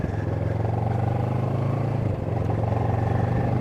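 A powerful Kawasaki motorcycle's engine thrums loud and close, revving slightly with a brief dip near the middle, then settling back into a steady, rumbling drone with a clattering edge and no voices.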